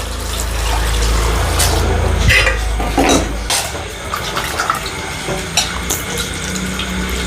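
Water splashes and swishes in a basin as mint leaves are rinsed by hand, with running-water rumble at first, then irregular sloshes.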